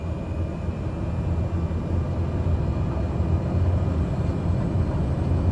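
Aircraft engines roaring at takeoff power on a light plane during a crosswind takeoff, a steady loud low rumble that holds constant throughout with no voices.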